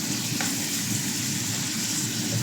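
Meat sautés in a pan for a stir-fry of cauliflower and carrots with oyster sauce. It gives a steady, dense sizzle and crackle, close and continuous, with no talking.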